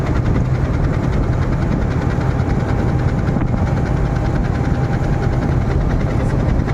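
A large ship's engine running inside a port, a steady deep rumbling drone with constant vibration, loud and unbroken throughout.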